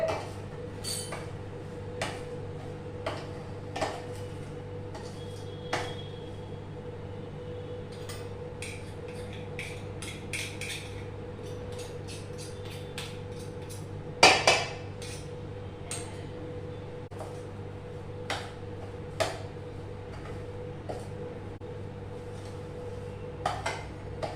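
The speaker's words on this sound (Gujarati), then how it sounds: "આને બરાબર મિક્સ કરી દેવાનું આપણે" Mango pickle is mixed in a pot. A spoon makes scattered light clinks and taps against the metal over a low steady room hum, faint and irregular, with one louder clatter midway.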